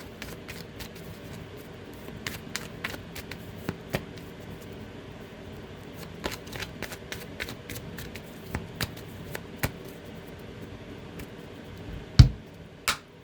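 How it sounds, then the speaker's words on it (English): A deck of tarot cards is shuffled by hand, soft papery riffles and scattered crisp taps and flicks spread across the stretch, fairly quiet and close, ending in a sharper snap. "let's get a good shuffle here"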